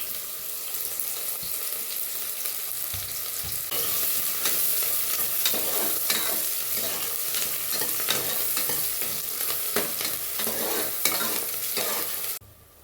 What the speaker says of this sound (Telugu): ఇప్పుడు ఇందులో ఆయిల్ వేసుకున్నాను ఇందులో ఉల్లిపాయలు వేసుకుంటున్నాను